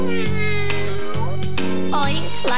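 A person imitates a cat meowing in a sing-along children's song, a few drawn-out voiced meows over a loud, steady musical backing.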